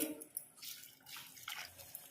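Water boiled with tomato and onion poured into a pot of chicken curry, a short, soft splashing trickle that swells and fades in brief bursts, close and quiet.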